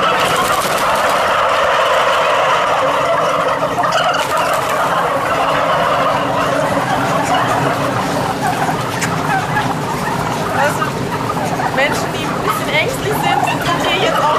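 Many 18-week-old turkey toms gobbling loudly and continuously in a conventional fattening barn, overlapping calls filling the enclosed space with a dense, chattering din.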